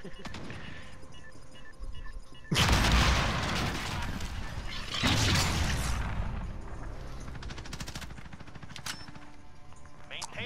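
A C4 charge in a modern military shooter game goes off with a sudden loud blast and long rumbling roar, followed by a second burst of heavy booming and crackling debris that slowly fades.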